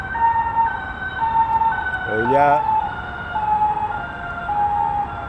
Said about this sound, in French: sirène.